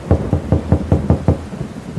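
Cartoon rain falls steadily with a row of evenly spaced low thumps, like knocking on a door, over about two seconds.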